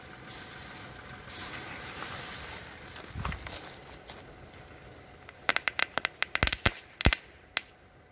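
Category 1 crackling ball fireworks in cardboard casings go off outdoors as a weak, uneven burst of sharp crackles and pops late in the clip, following a steady background hiss and a dull thud.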